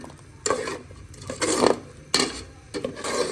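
A spoon scrapes and clanks against a pot while mutton korma is stirred, in four or five distinct strokes over a soft background sizzle.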